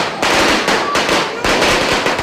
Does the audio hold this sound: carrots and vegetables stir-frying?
no